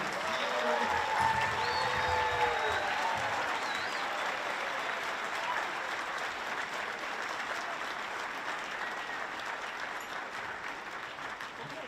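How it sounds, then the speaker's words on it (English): Audience applause rises after an elementary school band concert, a broad steady wash of clapping from a large crowd that slowly thins over about twelve seconds, with faint murmuring underneath. "Give them another big round of applause."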